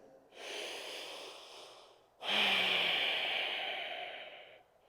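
Two long, deep breaths during a yoga flow, a slow inhale followed by a louder, fuller exhale, airy and close to the microphone, with no talking.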